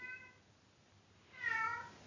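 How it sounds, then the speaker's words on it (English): A cat meows twice, a short tonal call near the start and a louder, longer one toward the end, with a quiet pause between and no talking. "That's a cat, by the way."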